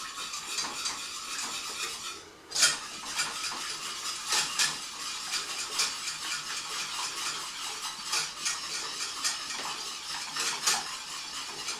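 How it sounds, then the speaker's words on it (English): A whisk stirs béchamel sauce in a pan, with a continuous soft scraping under repeated sharp metallic clinks of the whisk against the pan, fairly close and with no talking. "I will need to keep stirring until the soup base has become creamy"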